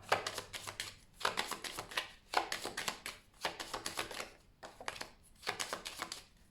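Playing cards being shuffled in several quick riffling bursts, each lasting about a second with short pauses between, close and clear, with no talking.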